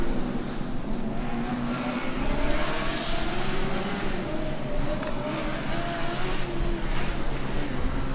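Formula Student race car at a historic autocross event, its engine droning steadily at close range with rising and falling pitch as it accelerates and drifts through the course.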